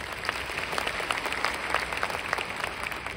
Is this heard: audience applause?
yes